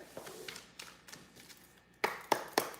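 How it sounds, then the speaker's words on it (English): Sharp knuckle taps on a deck of tarot cards, a few soft knocks followed by three louder, crisp raps close by, with no talking. "Knocking on the deck gets rid of my energy"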